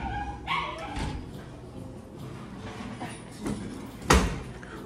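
A dog barking indoors in a house, a few sharp barks and yips spaced across the stretch, with a loud closer bark near the end and some thumping room noise between.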